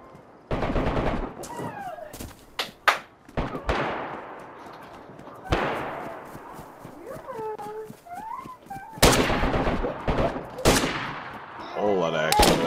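Gunfire in the survival game DayZ: sharp separate shots and short bursts spread irregularly across the stretch, some loud and near, others fainter, with voices talking between them.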